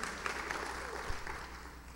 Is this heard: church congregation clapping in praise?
yes